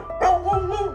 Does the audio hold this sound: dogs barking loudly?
yes